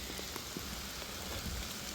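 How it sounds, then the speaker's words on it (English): Steady rain falls across a residential suburban area, a continuous close hiss of drops on wet surfaces with occasional louder patters, no voices. "the rain's starting to pick up"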